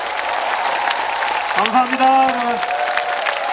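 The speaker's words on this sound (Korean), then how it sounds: "세 분께 다시 한번 큰 박수 보내주시기 바랍니다." Audience applause at a political talk concert, a broad wash of clapping running throughout under a voice, with a brief spoken phrase in the middle.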